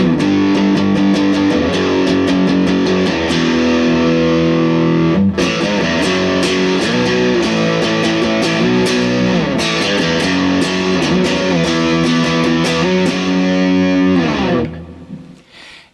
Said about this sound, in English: let's go ahead and get a little bit higher gain distortion going